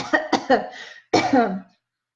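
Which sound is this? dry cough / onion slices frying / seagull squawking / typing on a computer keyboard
dry cough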